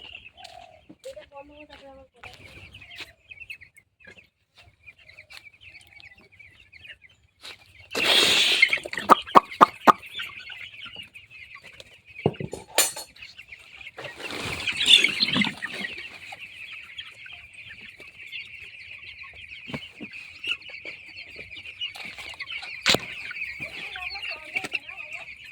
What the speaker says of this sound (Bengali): মুরগিগুলো দেখো কিভাবে সে রোদ পোড়াচ্ছে